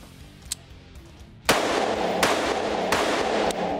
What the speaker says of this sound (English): I'm going to go off the side of the vehicle and take my shot.